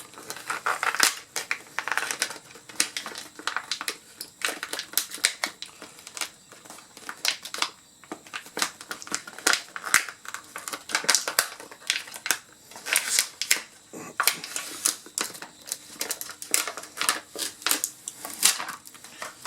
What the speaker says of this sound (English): Try to peel the cover off.